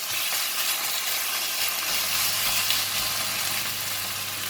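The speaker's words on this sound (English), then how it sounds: "I'm going to put in the beef. Push the vegetable one side, and I'm going to stir fry the beef." Beef sizzling in a hot wok during a stir fry with kailan, a continuous dense crackling hiss of frying at steady volume with faint stirring underneath.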